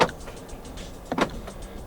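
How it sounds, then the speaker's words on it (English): Electronic central locking on a 2023 Proton X70 1.5 TGDi: a sharp mechanical clunk at the start, then a second louder lock actuation burst about a second later, heard close inside the cabin with no talk. "Electronic central locking."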